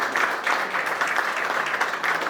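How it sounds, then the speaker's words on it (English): A crowd applauding at a community Q&A event, dense continuous clapping that fills the room, loud and steady throughout with no talk over it. "clap it up for him"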